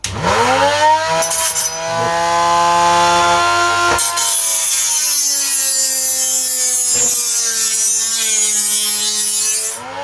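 Loud, harsh metallic grinding of a knife blade against a Von Chef electric sharpener, a sustained whining rasp with shifting pitch and a brief break midway.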